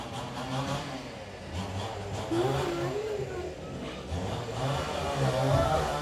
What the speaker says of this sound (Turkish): Dışarıdaki motor sesinden de kusura bakmayın.